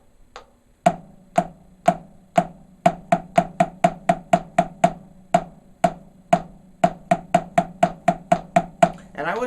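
Snare drum practice at 80 beats per minute: sharp, crisp strokes alternating quarter notes and eighth notes in a steady pattern, each hit clear and close with a brief ring, played alone without talk.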